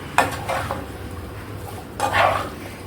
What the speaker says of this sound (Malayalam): ഇതെല്ലാം കൂടി നല്ലപോലെ യോജിപ്പിക്കുക